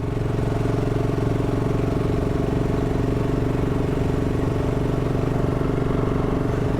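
BSA Gold Star 650 motorcycle idling nearby, a loud steady throbbing engine note with an even rapid pulse and mechanical clatter, continuous throughout.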